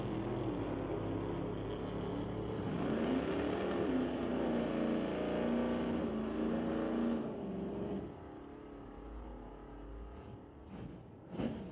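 A 1955 Meteor and a Super B drag racing down the strip, a loud sustained engine roar that rises in pitch as the cars pull away, then drops to a quieter fading rumble with brief knocks near the end.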